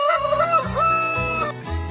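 A rooster on a farm crows, a loud, close, drawn-out cock-a-doodle-doo rising and falling in pitch, with a brief cluck near the end.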